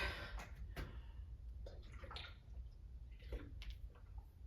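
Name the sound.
water running or pouring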